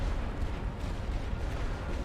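Heavy artillery fire in The Great War: Western Front, a dense continuous low rumble of distant barrages with no distinct separate blasts, steady and fairly loud throughout.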